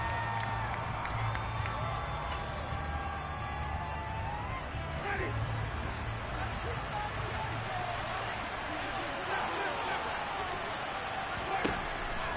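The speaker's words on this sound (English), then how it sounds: "How about some applause for the defense there?" A stadium crowd applauds and cheers in the Madden football video game, a steady, moderately loud roar that runs the whole time beneath a commentator's ongoing play-by-play talk.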